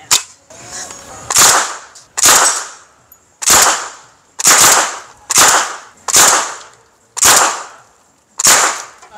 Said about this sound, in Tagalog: Gagamit tayo nitong grease gun.